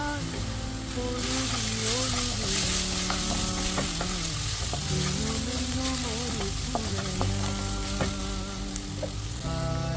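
Onions fry in hot oil in a home kitchen with Kashmiri chili powder, pepper powder and masala powder stirred in for a beef sandwich filling, giving a steady, dense sizzle with scraping stirs throughout and no voices.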